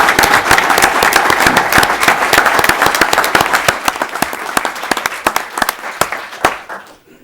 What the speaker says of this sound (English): helps give these guys a round of applause